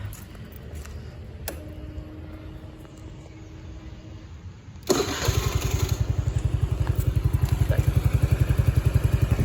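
A Suzuki Address scooter with its side stand down gives a click and short whirr, then starts and settles into a steady close idle that keeps running with a pulsing putter.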